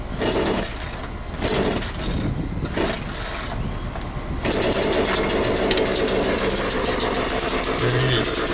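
A Poulan P3314 chainsaw, just fitted with a new carburetor and adjusted, runs steadily at close range, its engine note rising and falling a few times before settling into a continuous loud drone with a brief sharp click near the end.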